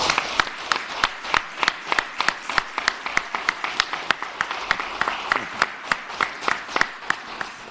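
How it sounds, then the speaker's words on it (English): Applause rises in the Virginia Senate chamber for a clerk being honored, a steady patter of hand claps with a few sharper, louder smacks standing out in a regular rhythm throughout. "I would ask everybody to give you another round of applause"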